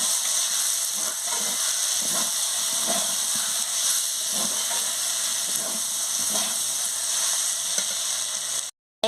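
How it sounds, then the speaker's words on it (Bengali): Vegetables with mustard paste sizzle steadily in a hot pan for an aloo, begun and onion chorchori, with faint scraping strokes of stirring under a constant frying hiss, ending in a brief cut to silence. "সরষে বাটা দিয়ে ভালো করে নাড়িয়ে নিচ্ছি।"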